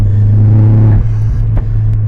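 A turbocharged Opel Astra MK4 under hard acceleration, its loud engine droning steadily as the tyres struggle for traction, with the note dipping and jolting briefly partway through.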